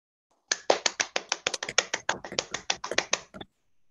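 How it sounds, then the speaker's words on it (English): Online meeting participants unmute and applaud, giving a run of about twenty sharp, close claps or snaps in quick irregular rhythm, after a brief silence and before it stops abruptly. "Let's take some time to unmute and applaud."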